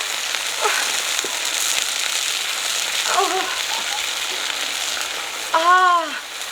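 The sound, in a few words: oil sizzling while frying vegetables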